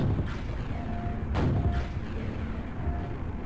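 Rocket blasts in the video game Quake, a couple of deep booms with a sharp one in the middle, set against a rumbling game background and mechanical hum.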